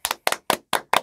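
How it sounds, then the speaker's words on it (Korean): Hand clapping greets a guest on a Korean talk show: five sharp, close claps in quick, even succession, with no voices. "박수!"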